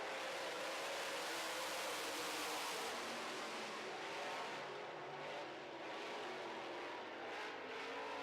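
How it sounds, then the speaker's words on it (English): Late model race cars roar around a short oval in a heat race just after the green flag, a dense wall of engine noise with shifting revs as the pack passes, loud and continuous. "And here we go, green. We are racing once again."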